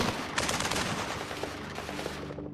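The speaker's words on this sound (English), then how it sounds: "They exchange more fire." Rapid exchange of gunfire during the North Hollywood bank shootout in Los Angeles, a dense crackle of overlapping automatic shots and bursts, distant and steady, with no voices.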